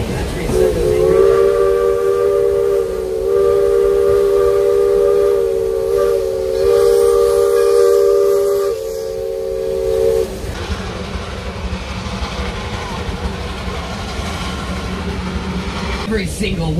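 A loud, sustained steam locomotive whistle blows a signal for several seconds with rich harmonic tones on the Big Trees narrow gauge railroad, California, then gives way to rumbling train noise and hissing.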